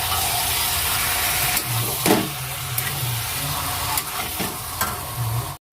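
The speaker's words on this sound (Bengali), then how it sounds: "ভালো করে এখন কষাবো।" Homemade biryani spice masala sautés in a pan, a steady close sizzle and hiss with scraping stirs of a spoon against the metal at intervals, continuing alone without talk before cutting off at the end.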